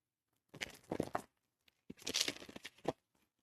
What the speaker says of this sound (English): We'll do one clean shuffle.